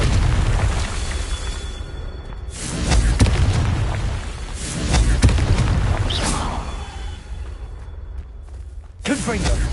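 The Confringo fire spell in Hogwarts Legacy explodes in several loud booming blasts with rushing whooshes in between, while a voice talks over the action.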